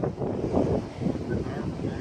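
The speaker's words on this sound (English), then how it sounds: "Yes, the wind!" Wind buffeting a microphone beside a railway line at Huyton, a steady low rumbling roar that holds for the whole moment, with voices talking over it.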